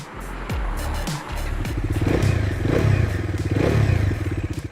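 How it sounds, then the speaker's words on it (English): A motorcycle engine idles and revs close by with a gruff, throbbing rumble, rising and falling in a few pulsing swells. "The engine has a gruff note"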